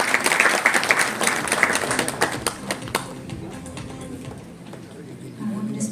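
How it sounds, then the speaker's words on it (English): A crowd claps for the women's team captain at the launch event of South Asia's first Women's Handball League in India. The applause is dense and steady for about three seconds, then thins into scattered claps and light room noise. "Can we please invite her with a big round of applause?"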